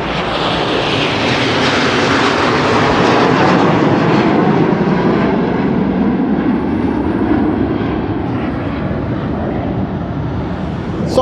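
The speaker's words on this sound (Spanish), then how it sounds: "Son los aviones de guerra" Military war planes roar low overhead near Comalapa in El Salvador, a loud continuous jet rumble that swells and then slowly fades as they pass toward the international airport.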